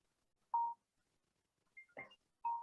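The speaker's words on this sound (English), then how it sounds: "Sorry, that was my phone." A mobile phone rings with short, clear electronic tones that repeat with gaps, faint and isolated in an otherwise quiet room.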